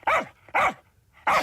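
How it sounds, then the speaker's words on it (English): Three sharp dog barks, loud and close, evenly spaced with short gaps, nothing else in the background. "maybe with this, a barking dog"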